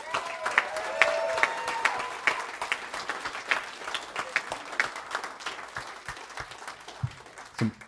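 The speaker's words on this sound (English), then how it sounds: "Let's give them a round of applause." Audience applause at the opening ceremonies of a convention, moderate scattered clapping with distinct individual claps that thins out over several seconds, with some voices mixed in.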